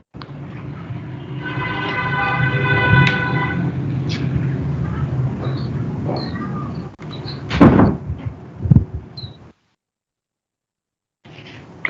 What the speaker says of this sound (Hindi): ट्रैफिक का शोर बहुत।